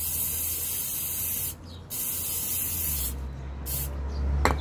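Scotchgard fabric protector sprayed from an aerosol can in a steady, close hiss, briefly pausing partway, then sputtering with a short pop near the end over a low background hum.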